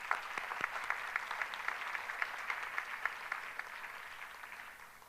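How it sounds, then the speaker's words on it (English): An audience applauding after a dance performance, steady clapping heard from a distance with a few louder claps standing out, fading slightly toward the end. "Please, let's give her one more big round of applause."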